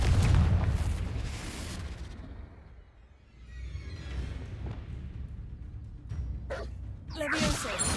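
Fiery Confringo explosion spell in Hogwarts Legacy, with a loud booming blast that fades into a rumbling tail, followed by sharper cracks and bursts near the end, accompanied by a voice.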